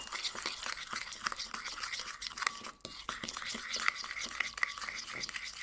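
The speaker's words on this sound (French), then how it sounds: "je vais mélanger avec la cuillère" A spoon stirring parsley sauce for a vegetable tagine, giving soft, quiet scraping and wet mixing sounds in an irregular rhythm.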